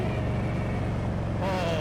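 Indian Scout Sixty motorcycle whose stock exhaust has been cut down, trimmed and welded back together, running with a steady close-up rumble that holds throughout and shifts slightly in tone near the end.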